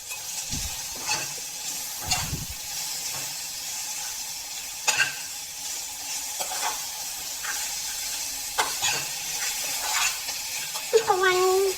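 Onions frying and sizzling steadily in a pan with stirring scrapes for Bagara rice, ginger paste added near the end with a sharper burst of sizzle, no talk.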